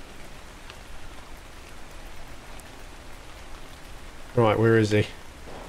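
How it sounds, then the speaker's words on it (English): Steady rain falls in the survival video game ARK: Scorched Earth as a soft, even hiss throughout, with a voice breaking in briefly near the end. "At least it's raining anyway, so I'm not worried about water situation at the minute"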